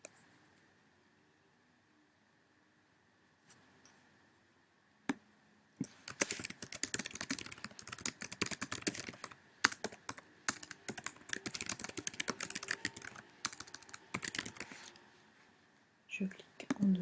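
A computer keyboard tapped to type a title on a Weebly site page, heard as quiet, close, rapid key clicks in steady bursts after a few seconds of near silence, with a short pause before the clicking resumes.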